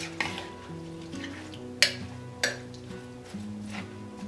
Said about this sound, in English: Stir it up really good to make sure everything is combined